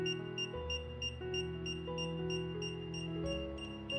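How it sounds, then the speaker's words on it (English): A Xiaomi Fimi X8 SE drone remote control beeps during pairing, giving a steady run of clear electronic tones repeating at an even pace, close and alone. "long press for 20 seconds or until you hear the beep sound"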